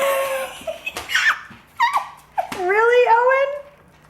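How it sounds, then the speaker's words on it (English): Owen the dog gives a few short yips and whimpering barks, close by, with people talking around him. "He's gonna bark at you."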